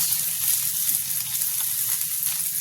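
Hot oil sizzles and crackles continuously as tempering spices fry for a lentil and spinach dal, a bright hissing texture at moderate volume with no talking.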